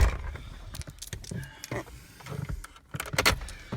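Power door locks on a BMW E30 325iX wagon clunk and click in quick mechanical bursts close by, a few spaced actuations with faint rustling between them.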